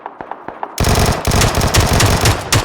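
Video game gunfire: a few sparse, sharp single shots, then a dense, loud burst of rapid automatic fire that runs with brief gaps to the end.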